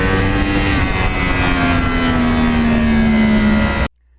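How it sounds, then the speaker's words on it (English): A 2009 Yamaha R1 crossplane motorcycle engine revs loud and close with a steady, rising drone that holds for a few seconds before cutting off abruptly. "this bike, believe me, from the cockpit at full RPM, going through the gears, it's got a very unique sound like nothing else I've ever ridden"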